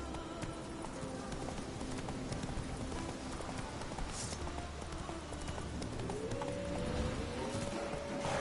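Rhythmic clip-clop of the horse Roach galloping in The Witcher 3, a steady beat of hooves over game music and ambience, with a brief whinny-like tone near the end.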